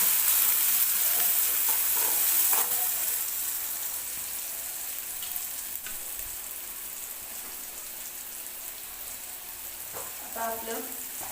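Turmeric with coriander and cumin powder being stirred into a hot pan of oil, a continuous close sizzle that eases slightly after a few seconds, with occasional spoon scrapes and a brief clink near the end.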